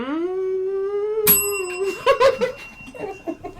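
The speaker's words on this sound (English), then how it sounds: "The bell is rebelling against us and it's like, please stop." A bell rings with one sharp metallic strike and a ringing tail, right after a sustained sung or hummed tone. Laughter and chatter from a podcast studio follow close by.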